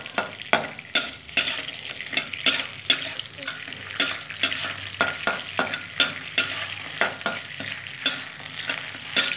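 Vegetarian eggplant and rice mixture fries in a pan while a spatula stirs it, sharp repeated scraping strokes over a steady close sizzle.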